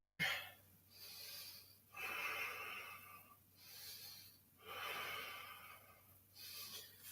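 Slow, steady breathing during a yoga pose, with about four long, soft breath cycles that swell and fade in a quiet room, close and without talk.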